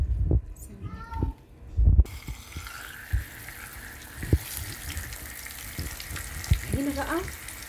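Tilapia fish sizzles and crackles in hot oil in a home kitchen pan, a steady frying hiss with occasional pops, while people speak over it.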